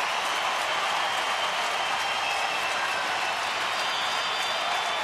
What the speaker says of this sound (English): Very enthusiastic crowd tonight.